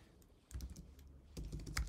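Keys tapped on a computer keyboard while a single-key navigation menu for PTZ camera control is set up, giving quiet, uneven clicks in two short bursts with no voices.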